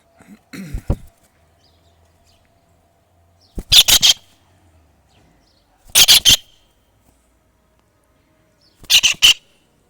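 A green kingfisher gives loud, harsh, rapid rattling calls in three separate bursts spaced a couple of seconds apart. An earlier, shorter squawk comes before them, and the background stays quiet.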